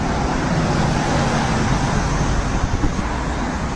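Loud, continuous city traffic roar with a bus passing among cars on a road with a bus lane, broadband rumble throughout and a few brief bumps near the end.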